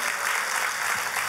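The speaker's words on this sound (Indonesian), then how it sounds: "Boleh kita beri tepuk tangan yang paling meriah" A church congregation applauding during a sermon, dense continuous clapping filling the room evenly at a fairly loud level with no voices over it.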